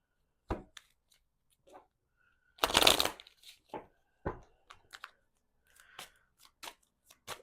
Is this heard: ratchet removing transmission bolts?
no